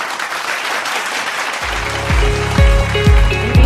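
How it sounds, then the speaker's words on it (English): Clapping fills a virtual government event, a steady wash of applause that grows louder as a musical jingle with deep thumping beats comes in beneath it. "a virtual round of applause"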